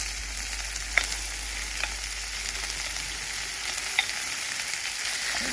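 Minced lamb sizzles steadily in a hot pan for a lamb keema balti, with a few sharp clicks of a utensil stirring and breaking up the meat; no talking.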